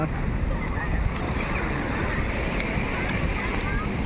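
Ocean surf rolls in steadily on Patong Beach in Phuket, a continuous broadband wash with wind buffeting the microphone, loud and close throughout with no distinct breaks.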